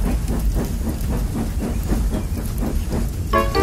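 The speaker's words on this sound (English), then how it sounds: "The train came to a halt." A steam locomotive chugs along with rhythmic puffing and rumbling, loud and close, then a high whistle-like hiss cuts in at the end as it comes to a halt.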